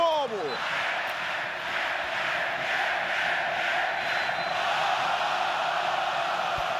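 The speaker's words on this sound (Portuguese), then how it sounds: "Vamos lá, na tela a torcida do Vitória." Vitória supporters cheer in the stands at Barradão stadium, a steady distant crowd roar that holds without break, broad and even, with no single voice standing out.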